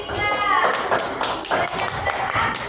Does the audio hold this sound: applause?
yes